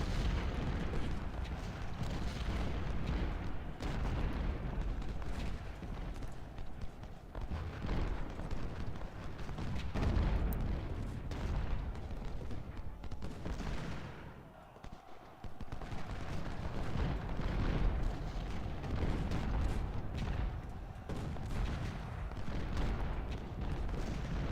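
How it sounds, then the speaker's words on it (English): Artillery thunders through a Civil War battle at Fredericksburg in the video game Ultimate General: Civil War. Dense, rumbling booms and crackling volleys run almost continuously, with a brief lull midway. "Good lord, that artillery."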